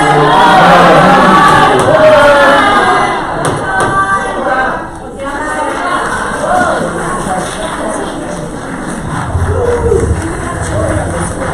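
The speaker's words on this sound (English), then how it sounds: "Please, I must remind you, please, no clapping, no outbursts when people are speaking at the podium." Crowd noise at a school board business meeting: an outburst of shouting and clapping with thuds, settling into restless murmuring and babble, with voices talking throughout.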